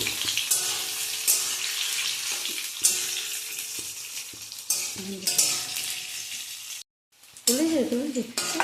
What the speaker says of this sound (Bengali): আলুগুলো ছেড়ে দিচ্ছি, আলুগুলো ভেজে নেব।